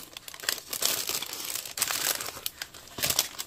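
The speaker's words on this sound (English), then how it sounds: "Sorry for the crinkling." Crinkly plastic gift wrapping around a handmade Christmas present is handled close up, with a dense, continuous rustle rising in bursts over a few seconds and no talking.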